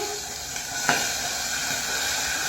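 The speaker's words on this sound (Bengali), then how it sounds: "দেখতেই পাচ্ছ কি ফাটছে, এই হয়। আমি তাহলে মাছ ভাজতে গিয়ে" Fish fries in hot oil with a loud, steady, close sizzle and hiss, and a single sharper spatter pops out early on.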